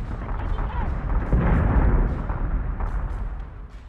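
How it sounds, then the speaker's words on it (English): A nuke detonating in the space strategy game BSG: Deadlock, a deep sustained rumbling blast that swells and rolls on for several seconds, heavy in low end and loud, with faint voices underneath. "That's a nuke."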